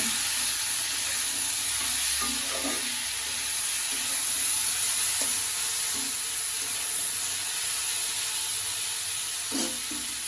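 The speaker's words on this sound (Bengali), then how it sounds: "হলুদের গুঁড়া এখন একটু ভেজে নিব" Turmeric powder frying in a pan during a village cooking session with gourd greens: a loud, steady hissing sizzle up close, with a few light knocks from stirring and no one talking.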